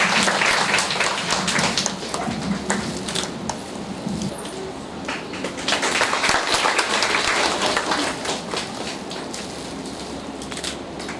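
An audience at a women's leadership day event gives dense, sustained applause. Many hands clap continuously at close range for over ten seconds, swelling and easing slightly without a break.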